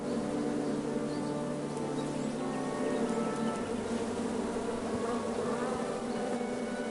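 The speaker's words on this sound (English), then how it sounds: "Bees! I ruined the bees' day." Bees buzz in the video game King's Quest, a steady droning hum that stays even and fairly close throughout with no voices.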